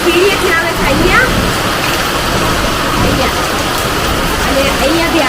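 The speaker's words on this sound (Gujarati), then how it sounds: "એટલી જોરથી વરસાદ પડે છે" Heavy rain pours steadily outside a house as a dense, continuous wash of noise, with people talking over it throughout.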